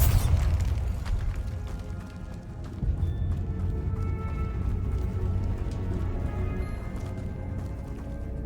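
A Bombarda spell in Hogwarts Legacy goes off with a sharp boom at the start, followed by a lingering rumbling, crackling rush of debris and combat noise at moderate level.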